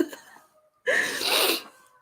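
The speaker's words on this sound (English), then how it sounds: "I'm about to sneeze" A single sharp sneeze bursts out after a brief quiet pause, loud and close, preceded by faint breathy sounds.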